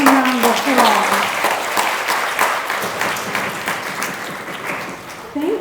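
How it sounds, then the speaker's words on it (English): An audience at a lecture on conditions of the visual system applauds, a steady spread of clapping that fades slightly toward the end, with a voice speaking at the start and again at the close. "Can we give some round of applause?"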